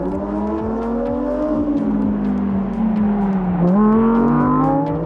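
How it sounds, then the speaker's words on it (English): A Lamborghini driving around the Formula 1 track in Bahrain gives a loud, sustained engine note that holds steady, dips briefly as it shifts, then climbs again under hard acceleration. "just showing you pictures of it driving around the F1 track in Bahrain"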